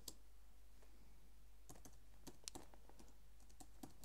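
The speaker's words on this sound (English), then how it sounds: "First of all, I type some text." Typing on a computer keyboard, a quiet series of light key clicks in an irregular rhythm over a low background hum.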